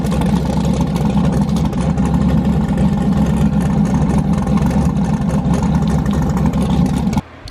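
A street car's engine idles steadily to warm up, a loud, even mid-pitched drone running nearly unbroken before cutting off abruptly near the end.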